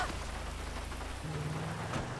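Steady rain hisses in the video game while a Sanchez motorbike is ridden, a dense even wash with a low rumble beneath, continuous throughout with no talk.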